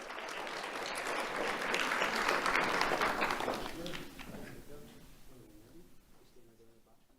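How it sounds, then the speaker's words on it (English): A crowd applauds at a sheriff's office youth awards ceremony, a broad wash of clapping that builds, then fades as a voice begins speaking. "Let's have a round of applause for Destiny Porter."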